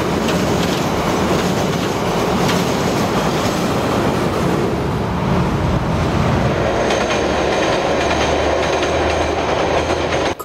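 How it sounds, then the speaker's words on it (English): The TranzAlpine Express thunders across a bridge over the Arnold River near Kotuku in New Zealand, a loud, continuous close rumble with clickety-clack of wheels and a brief squeal, no voices. "Thundering across the Arnold River as the train approaches Kotuku."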